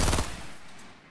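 A short burst of rapid gunfire in the Fortnite battle royale video game, loud and close, then a quick decaying tail.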